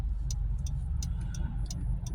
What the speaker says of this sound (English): There's a lot of cars out there.